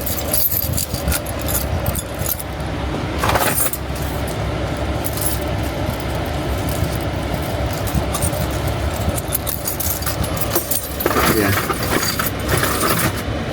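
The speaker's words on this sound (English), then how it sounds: "And put all my keys back together." A bunch of keys jangling as they are gathered back together outdoors, a steady metallic clinking throughout with a few louder jingles, set against a continuous low rumbling background.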